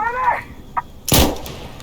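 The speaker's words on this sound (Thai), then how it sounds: "นี่มันลูกซอง" A shotgun fires once in the video game Insurgency: Sandstorm, a sudden loud blast with a short rumbling tail, preceded by a brief voice and a faint electronic chirp.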